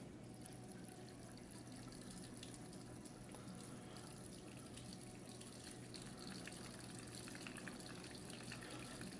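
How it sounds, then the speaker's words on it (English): Beer gushing steadily from the valve of a conical fermenter into a container, a continuous faint rushing splash with no pauses and no talking. "let's open this valve and see if we get some clear beer"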